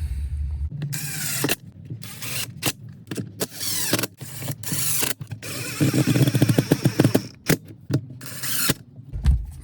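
Screws being driven into a McCulloch chainsaw during a refurbishment, heard as close, bursty mechanical whirring and ratcheting in short repeated runs separated by brief pauses.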